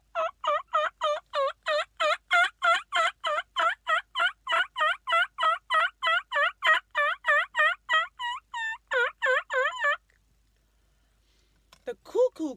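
A handheld novelty turkey call from a sound effect collection gives a long run of rapid, rhythmic gobbling yelps, about two dozen in a row. A short pause follows, then a few more yelps start at the end.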